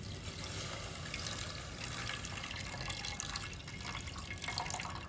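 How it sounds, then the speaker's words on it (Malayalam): Water poured from a glass into a pot of sambar dal (lentils) makes a steady, continuous splashing trickle lasting several seconds, close by and moderately loud, with no voices. "ഒരു ഗ്ലാസ് വെള്ളം ഒഴിച്ചു കൊടുക്കുക"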